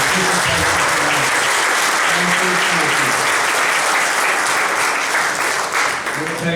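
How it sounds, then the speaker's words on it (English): Audience at a county executive candidates forum claps for both candidates, steady dense applause filling the room throughout, loud and continuous with no pause. "we give both candidates a round of applause for their participation tonight"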